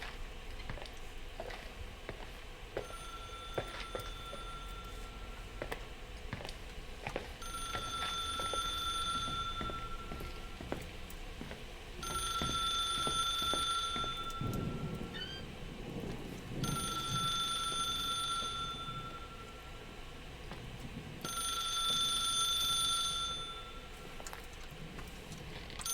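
In the video game The Suicide of Rachel Foster, a telephone rings in repeated bursts: about five bright, trilling rings spaced a few seconds apart, clear and fairly close over a quiet background of footsteps and room tone.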